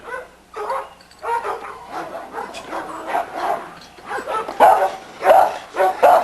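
A small dog, a female with a black mask and a slight underbite, barks in short yips and whimpers in a yard, in bursts that grow louder toward the end, with no talk over it.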